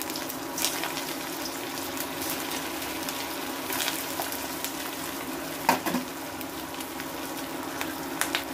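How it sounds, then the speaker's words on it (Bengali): Chicken koftas fry slowly over a low flame in a pan, giving a steady, even sizzle with a faint crackle and an occasional sharper pop or stir, and no voices. "এবার এই কোফতাগুলো আমি আস্তে আস্তে ভেজে নেব।"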